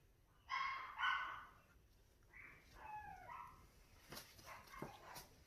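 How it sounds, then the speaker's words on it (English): A dog gives two quick barks at a distance, followed by a few softer yips and whines in an otherwise quiet room. "The dogs must have heard me."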